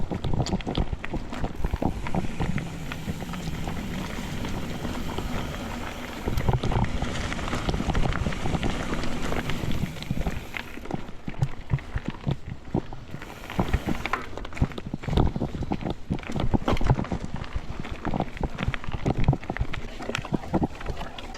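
Wind gusts across an open solar field and airfield along a Maine mountain bike trail, a steady loud rushing with heavy microphone buffeting that grows rougher and more choppy in the second half, no speech.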